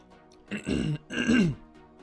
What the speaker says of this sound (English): just trying to clear my throat a little bit